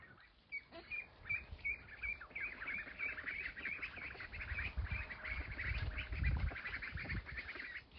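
Young ducklings on a backyard farm quack and peep in a quiet, continuous chatter of small calls close by, with low rustling underneath and no talk.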